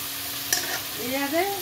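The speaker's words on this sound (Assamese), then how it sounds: "কোমোৰা আৰু আলু কাটি থৈছিলোঁ, ইয়াত দি দিম" Chunks of cut pumpkin and potato drop into sizzling fried masala for a duck curry, giving a short clatter over a continuous frying hiss, with no talking.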